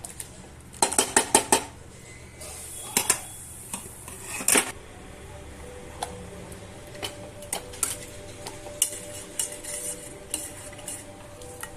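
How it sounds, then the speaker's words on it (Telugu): Cooked dal gets mashed with a masher in a metal pot, producing irregular clanks and scrapes of metal on metal, with bursts of knocks early and softer squelching pushes between. "ఇప్పుడు మనం పప్పుని ఇలాంటి మ్యాషర్తో కానీ పప్పు గుత్తో కానీ మెదుపుకోవాలి"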